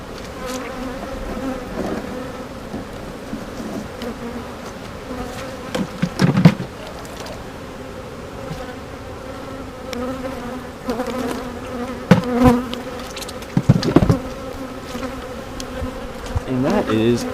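Honeybees buzzing around an open hive during a routine inspection, a dense continuous drone close by, broken by a few clicks and knocks of frames and tools.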